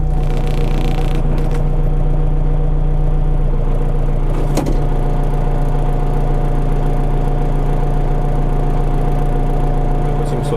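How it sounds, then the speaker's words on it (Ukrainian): A tractor engine idles steadily in low first gear, a continuous close, even low rumble with a throbbing mechanical vibration and a brief knock or clatter midway. "Так, включаю перша. І тут на лоу. Так, дивимося. Холості оберти."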